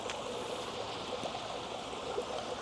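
Water pours out of a backyard pond filter machine in a steady, hissing rush, constant and moderately close, with no voices.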